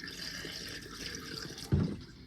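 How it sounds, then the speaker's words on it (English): Liquid poured from a jug down a bathroom sink drain while winterizing an RV, a faint steady trickle that ends in a brief louder gurgling splash. "Pour some down the bathroom sink."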